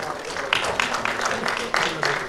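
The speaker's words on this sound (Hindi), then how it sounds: "मैं चाहूंगा जोरदार तालियों से उनका स्वागत।" Audience applause welcoming the best director award winner at an annual media awards ceremony with Bollywood celebrities, a steady wash of clapping with a few sharper bursts throughout.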